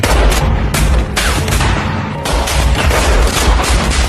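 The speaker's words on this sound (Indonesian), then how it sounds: "salah satu tentara itu menembak hewan peliharaan Kunimatsu sehingga" Loud gunfire from a film soundtrack, a burst of several sharp reports with a brief lull before more shots and booming continue, dense and close.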